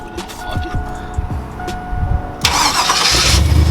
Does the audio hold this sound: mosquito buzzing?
no